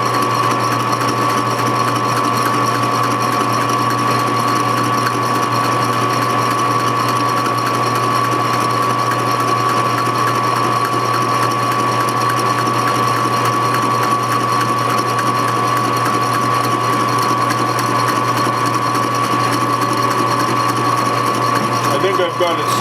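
A pipe-cutting machine's cutter works through frame tubing with a continuous loud mechanical whine and rapid chattering buzz. It runs unbroken and close at hand from start to finish.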